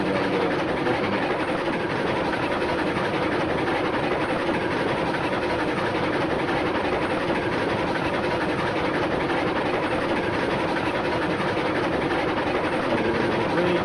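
Steam locomotive running in the Railroads Online train simulator game, crossing a bridge on a 1.5% grade with empty cars: a steady, continuous rumble and rolling rail noise at constant loudness with no talk.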